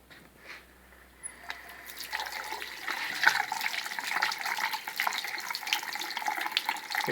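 A faint click and rustle, then warm water starts running from a tap fed by a solid-fuel boiler, a steady splashing flow that grows fuller and continues.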